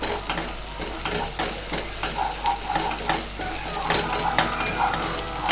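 Ginger garlic paste sautéing in a pan for a paneer gravy masala, a steady close sizzle with rhythmic spatula scrapes and stirs throughout, no talking.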